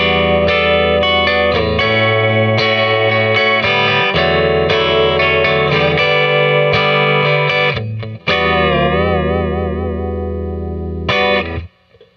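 A Fender Vintera II Mustang electric guitar on its bridge pickup plays a clean tone through a Princeton Reverb reissue amp, loud, close, sustained chords and notes with a few pauses, ending in a fade.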